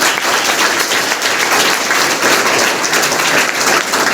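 Loud, dense applause from an audience at a school road safety awareness programme in Lucknow, continuous clapping for about four seconds with no talking over it.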